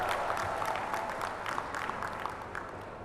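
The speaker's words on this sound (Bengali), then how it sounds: "তাদের জন্য জোরে একটা হাততালি দিয়ে আমরা তাদেরকে অভিনন্দন জানাচ্ছি" An audience at a university gathering applauding, a dense, steady wash of clapping from many hands that fades slightly toward the end.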